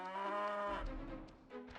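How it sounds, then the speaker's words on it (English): Cattle moo in the PlayStation game Xena: Warrior Princess, one long low drawn-out moo that slides downward, fairly quiet and on its own. "You can make the cows go moo."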